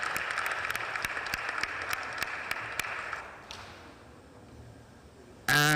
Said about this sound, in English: big round of applause for the boys from Cape Coast